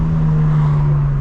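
2025 BMW M4 Competition xDrive driving at night in Atlanta: a loud, steady engine drone with a strong low hum, heard from inside the car with no pauses over a brief moment.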